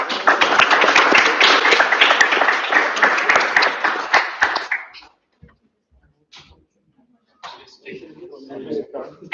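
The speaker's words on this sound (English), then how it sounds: "Give me a round of applause." Audience applause at a student government senate meeting, a loud steady round of clapping lasting about five seconds, then fading into near silence before a voice begins speaking.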